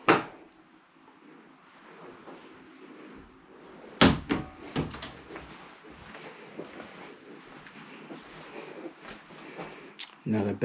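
Two-door bedroom closet in a two-story home, its doors bumping open and shut in a few sharp knocks against a quiet room hum.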